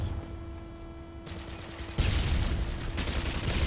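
Rapid bursts of automatic gunfire in the Modern Warfare 2 video game on an Afghan map, steady crackling volleys that grow louder and denser partway through, with no talk over them.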